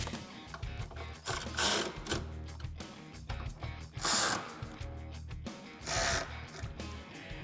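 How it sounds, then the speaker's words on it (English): A ratchet with a 10mm socket tightens the headlight bolts on a 2005-2009 Mustang GT, giving quiet, close bursts of rapid clicking in short repeated strokes with pauses between them. "Now I can tighten up those bolts with my 10mm socket."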